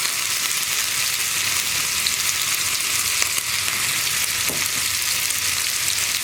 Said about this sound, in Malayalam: അപ്പോൾ മീൻ ഇവിടെ ഫ്രൈ ആയി വരട്ടെ